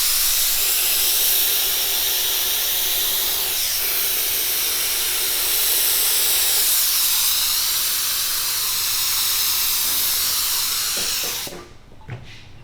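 Activator sprayed onto a deer skull during hydro dipping gives a loud, steady hiss lasting about eleven seconds before it abruptly cuts off, followed by a few faint clicks.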